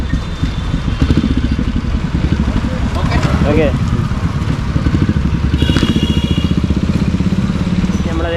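A 2003–2004 model vehicle idles close by with a steady, rhythmic low-pitched engine thrum and some clatter, while someone speaks briefly over it.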